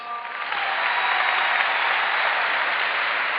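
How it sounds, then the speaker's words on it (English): Audience applause at a sales and success event, a dense, loud, continuous roar of many people clapping that rises in the first half second and stays steady to the end. "Let's give Brandon another round of applause."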